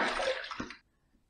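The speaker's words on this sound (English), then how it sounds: "Let's rinse." Water splashes briefly as a Mühle R89 safety razor and a freshly shaved face are rinsed, a short close wet burst that stops abruptly into near silence.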